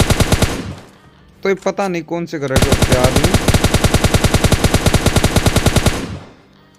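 PUBG Mobile Lite gunfire, with a brief burst followed by a long, loud run of rapid automatic shots in an even rhythm. A voice speaks briefly near the start.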